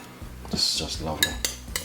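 A utensil scrapes a weight-loss salad out of a bowl onto a plate, giving a few short, close metallic clinks and scrapes over a quiet background.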